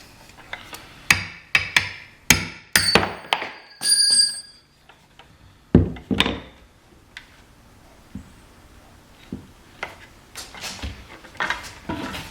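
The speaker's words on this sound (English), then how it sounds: "use your pounder and punch holes all the way around the base" Metal pail base punched full of holes with a pounder for a DIY bird feeder: sharp, irregular metallic taps and knocks, some in quick clusters and others spaced apart, close by, with no talking.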